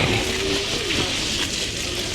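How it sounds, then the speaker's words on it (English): Heavy rain pours steadily on an umbrella in Paris, a dense, continuous hiss, close by and loud, with no voices. "can you see it's raining really hard now?"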